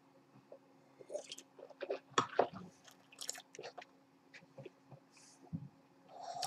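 Wine swished and rinsed around the mouth during a tasting, close, quiet wet slurps and squishing gurgles in irregular bursts over near silence.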